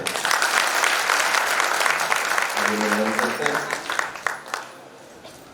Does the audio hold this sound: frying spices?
no